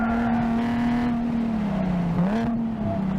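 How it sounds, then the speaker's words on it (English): Engine of a modified Nissan 370Z on a race track: a steady, droning exhaust note, close and loud, holds, dips briefly as the revs blip during a downshift, then climbs back, with wind and road roar underneath. "Auto rev matching, absolutely amazing."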